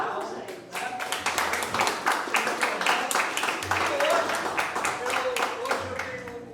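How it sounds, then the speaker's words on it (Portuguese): Applause at a teachers' tribute ceremony, a dense burst of hand clapping that swells and carries on steadily, with voices mixed into the crowd noise. "Aplausos, gente."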